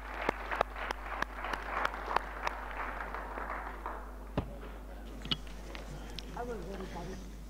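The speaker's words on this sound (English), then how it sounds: "a big hand of applause for our panelists and also for our discussion" An audience at a ministerial roundtable on regional connectivity applauds the panelists, with scattered claps and taps over a steady low hum that thin out into quieter room noise and faint speech.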